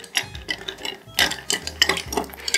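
A bar spoon stirs a Bobby Burns cocktail over six or seven ice cubes, giving close, crisp clinks and rattles of ice against glass in an irregular swirling rhythm, with no talking.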